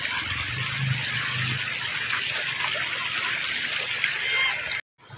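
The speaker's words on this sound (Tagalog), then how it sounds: "Malakas ang agos ng tubig." Strong river current rushing beneath Lambingan bridge in San Antonio, Zambales, a steady broad wash of flowing water held at even loudness before cutting out briefly near the end.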